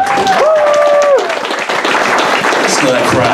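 Audience applause and cheering for a comedian at Cork N' Cap, clapping spreading across the room while a singing voice and whoops ride over the top, thinning toward the end.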